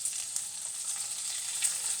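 Food fries in a frying pan on a stove, a steady bright sizzle with small crackles and pops, heard up close with no talking.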